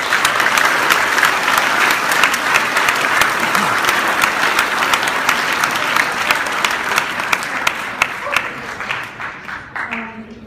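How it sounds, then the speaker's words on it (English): Audience applause at a junior golf world championship event, sustained dense clapping across the whole stretch that thins out toward the end. "I think we should have a big round of applause for all the parents who were caddying, coaching, and supporting from the sidelines this week."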